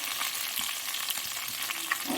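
Chopped onions sizzling in hot oil in a pan while cooking kadhi, a steady close crackle with light stirring sounds and no voices.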